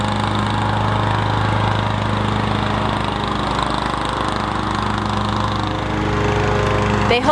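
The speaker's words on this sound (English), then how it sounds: "My neighbor's out mowing." A lawn mower engine drones steadily at a distance, a constant motor hum with a low buzzing tone that continues throughout.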